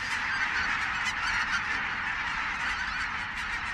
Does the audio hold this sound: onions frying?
no